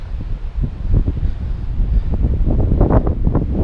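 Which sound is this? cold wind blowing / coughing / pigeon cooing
cold wind blowing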